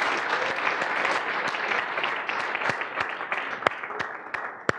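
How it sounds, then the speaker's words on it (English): Seminar audience applause, a dense, sustained round of clapping that gradually thins out, leaving a few louder isolated claps near the end. "Thank you, whoever started that applause."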